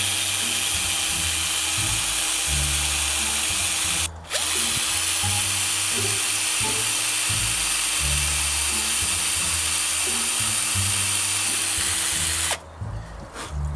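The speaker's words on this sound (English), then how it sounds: "we're going to drill 2 pilot holes in the end here" A power drill bores pilot holes into the end of a wooden model railway baseboard, running loudly and close, motor pitch rising and falling, with two brief pauses.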